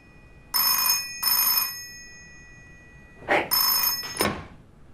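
A telephone rings in two pairs of bright electronic trills, loud and close, with a soft thump between them.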